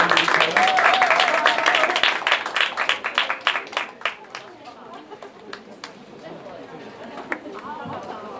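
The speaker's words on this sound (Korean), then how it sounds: "앉아있는 친구들 박수 우리 경례의 박수 한번 부탁드릴까요?" A high school church youth group applauds during a Sunday morning service, with dense, lively clapping for several seconds that thins into scattered claps and murmuring chatter from the crowd.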